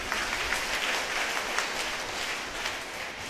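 An audience claps together in a church gathering, a dense, steady wash of applause from many hands that continues evenly throughout without voices standing out.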